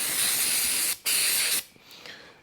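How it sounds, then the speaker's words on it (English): Brake cleaner sprays from an aerosol can in two loud, steady hissing bursts with a brief gap between them, followed by a fainter trailing hiss. "Don't let your children spray brake cleaner all over their hands"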